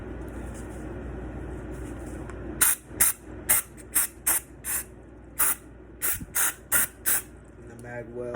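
Cleaner is sprayed onto a pistol in about a dozen short, sharp hissing bursts at a quick, uneven rhythm, close and loud, after a quieter stretch of scrubbing and low background hum.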